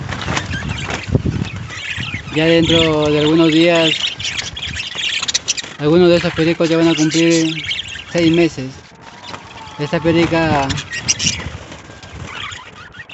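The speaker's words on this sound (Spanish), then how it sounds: "Acá nuevamente me encuentro filmando la voladera de mis pericos tiernos." Pet parakeets flying around indoors, squawking and chirping in repeated bursts throughout, close and fairly loud, with someone speaking over them.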